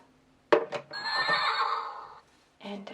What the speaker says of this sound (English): And the horse.